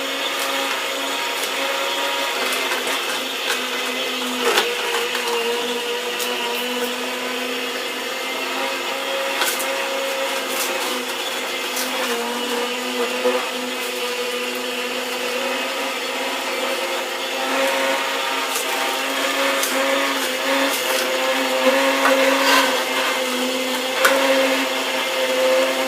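A Juicepresso juicer runs steadily, giving a continuous motor whir and grinding hum with slight fluctuations and occasional clicks as produce feeds through, close and moderately loud with no talk.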